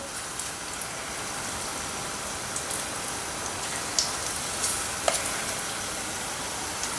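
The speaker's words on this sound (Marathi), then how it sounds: "तर छान अशी पात्रच्या भाजीचे भजी मस्त तेल गरम झालंय" Patra leaf fritters (bhaji) frying in hot oil, giving a steady, even crackling hiss throughout with a few sharper pops rising out of it.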